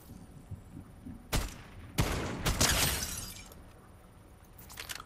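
Sniper gunfire in a video game: two or three sharp, loud cracks with short echoing tails, spaced about a second apart, over a quiet background.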